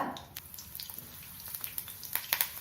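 Green chillies sizzling in hot oil in a pan on a stove, a soft steady crackle with scattered popping spits, quiet and close, no talk.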